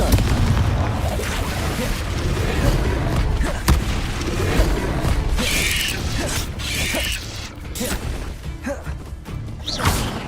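A Confringo spell blast in Hogwarts Legacy lands amid loud, dense combat noise of rumbling booms, clanks and crashes that never let up.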